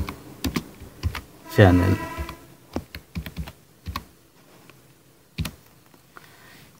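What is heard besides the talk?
typing on a computer keyboard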